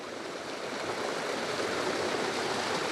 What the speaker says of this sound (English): We would have done anything for this running water.